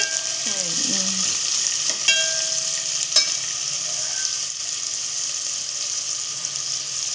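Onions frying on a high gas flame for a prawn rice dish, a loud, constant hissing sizzle close by, with a couple of brief metallic squeaks from the pan early on and no speech.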